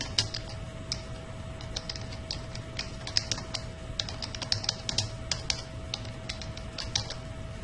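Steady typing on a computer keyboard, with rapid irregular clicks running throughout over a low background hum and a faint electronic whine, and no talking.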